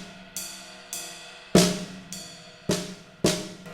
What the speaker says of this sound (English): for the first paradiddle, we're going to be on the ride